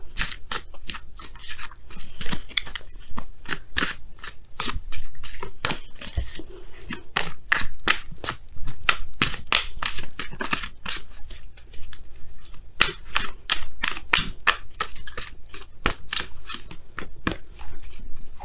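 Wisdom of the Oracle cards are shuffled and pulled from the deck for a tarot reading, a steady run of quick, crisp riffling clicks and slides up close with no talking.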